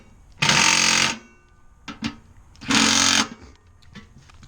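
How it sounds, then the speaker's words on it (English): Small Bosch cordless drill whirring in two short bursts of about a second each, close and loud, with quiet handling noises between them. "With this little Bosch drill"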